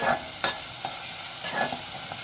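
Onion is stirred and sautéed in a pan for a Bombay duck dry fish and potato dish, quiet sizzling under a few short scraping strokes of a spoon, close and brief.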